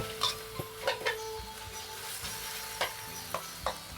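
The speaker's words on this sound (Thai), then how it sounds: "แล้วก็ผัดนะคะ หอมเลยดิ" Food being stir-fried in a pan, with a steady low sizzle broken by sharp, repeated clicks and scrapes of a utensil against the pan at an irregular rhythm, close and moderately loud.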